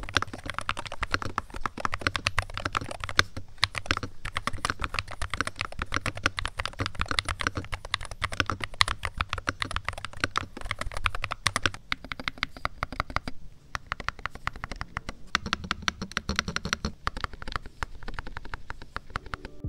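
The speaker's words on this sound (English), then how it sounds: "I think these just may be the best sounding magnetic switches I've tried" Typing on an Ajazz AK680 Max HE 65% magnetic Hall effect keyboard, a steady rapid stream of close, crisp keystrokes with a few brief pauses and a slight change in tone partway through, no talk.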